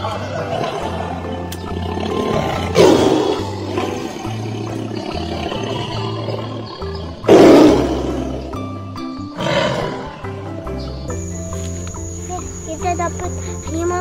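A toy tiger gives loud roars, two strong bursts a few seconds apart over a steady electronic buzz and chirping, with a looping toy sound continuing underneath.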